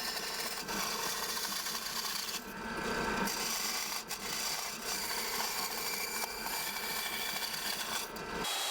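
A wooden piece for a box is carved and rasped by hand, giving continuous close scraping and rubbing strokes with brief pauses and a few sharp knocks, with no talk.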